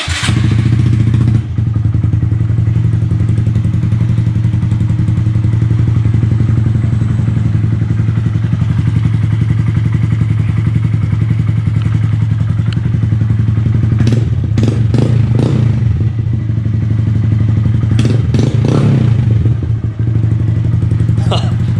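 A Honda Grom idles loudly and steadily through a Ransoto aftermarket exhaust with the baffle removed, a deep, rough rumble, with a few clanks and blips of revving near the end.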